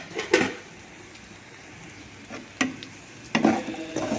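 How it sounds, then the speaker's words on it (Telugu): Garlic fries in a pan with a soft, continuous sizzle, broken by a few sharp stirring scrapes and clinks of a utensil against the pan, heard close and without talk. "కొంచెం వేగాలండి."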